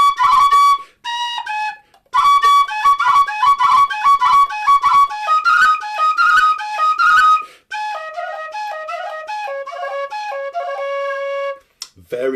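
A Weston pistachio wood whistle plays a quick, ornamented tune with bright, clean notes and short pauses between phrases, close and loud with no talking.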